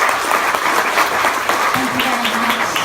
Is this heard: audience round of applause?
yes